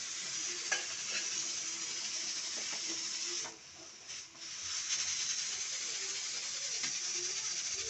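Dosa batter roasting on a hot pan with oil, giving a steady close sizzle with a few light scraping ticks and a brief dip partway through.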